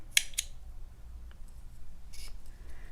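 Scissors snip through crochet yarn, two sharp close cuts near the start and another quick snip a couple of seconds later, each brief and crisp against a quiet room.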